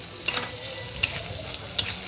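Onions frying in a pan for spiced Maggi noodles, a steady soft sizzle with three sharp scraping stirs spaced evenly apart, close and moderately quiet.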